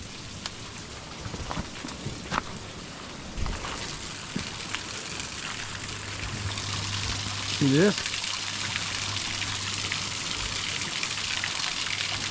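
Continuous rushing and trickling of a flowing stream fills the scene, a steady watery wash heard close by while someone talks briefly over it.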